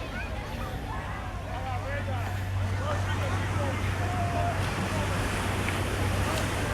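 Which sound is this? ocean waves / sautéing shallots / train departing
ocean waves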